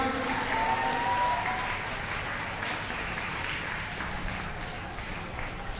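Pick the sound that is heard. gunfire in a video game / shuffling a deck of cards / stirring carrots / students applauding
students applauding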